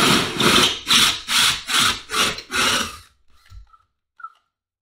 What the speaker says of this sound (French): il vous faudra vous munir d'une scie cloche de ce type, du diamètre 67 ou 68 et d'une visseuse